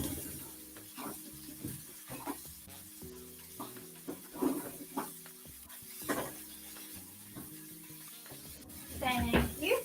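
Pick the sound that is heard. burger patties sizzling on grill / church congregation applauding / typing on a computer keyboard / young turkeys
burger patties sizzling on grill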